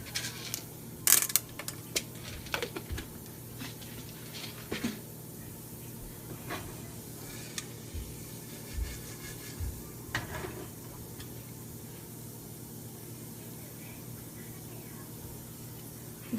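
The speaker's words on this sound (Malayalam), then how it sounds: "ഇതുപോലെ പടപടപടാന്ന് പൊട്ട സൗണ്ട് കേൾക്കണം" Mustard seeds, urad dal and chana dal pop in hot oil in a pan, sharp crackles scattered irregularly over a low steady sizzle, close and fairly faint.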